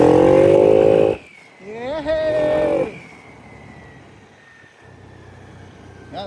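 Yamaha Aerox or NMAX scooter with a repaired YECVT transmission fault, engine revving loudly up close, then a quieter rising whine as it pulls away and fades into a low, steady drone.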